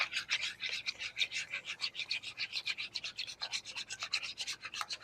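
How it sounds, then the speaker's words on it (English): An egg and milk are whisked together in a bowl, making quick, regular scraping strokes at a steady rhythm. The sound is close and fairly soft, with no talking. "crack my egg in there, and then add my milk in, and then whisk that all around"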